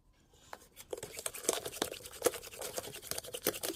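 Oil being stirred into cake batter in a bowl: close, repeated soft scraping and clicking strokes in an irregular rhythm, with no voices.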